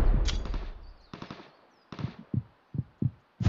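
Gunfire in the mobile battle-royale game PUBG Mobile, a short rapid burst followed by a run of single sharp shots at roughly even intervals, loud and close with no talk.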